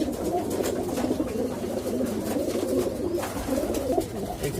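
Pigeons in a loft with nesting pairs and chicks, cooing in low, continuous, overlapping murmurs close by.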